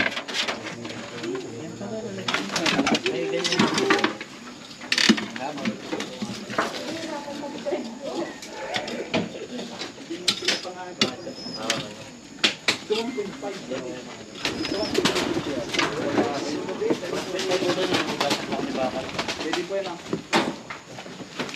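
Pigeons coo repeatedly at a house in Batangas, soft rhythmic calls recurring throughout amid background speech and household clatter.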